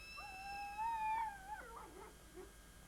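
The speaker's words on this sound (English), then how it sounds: "He's barking at us." A dog across a river gives a drawn-out, wavering howl with a falling whimpering tail, moderately distant and alone with no talk.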